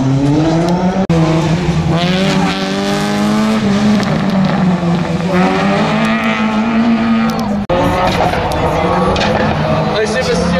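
Rally cars on a Saint-Lô slalom course roar past loudly, their engine notes rising and falling continuously with brief tire squeals, under an excited commentator talking throughout.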